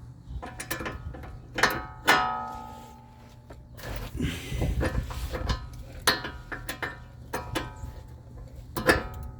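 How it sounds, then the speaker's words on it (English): An adjustable wrench works a tie-rod bolt on a 2005 Mustang, making irregular close metallic clicks, clanks and scrapes with a few louder knocks. "So the reason why I'm using my adjustable wrench to get this off is because I don't have the correct size for that top bolt."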